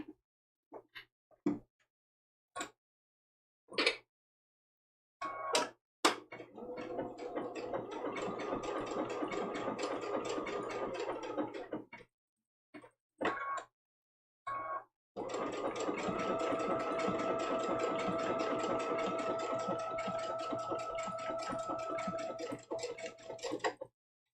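Sewing machine running a blanket stitch along the edge of a quilted mug rug, with short start-stop bursts early on, then two long steady runs of stitching, close and alone.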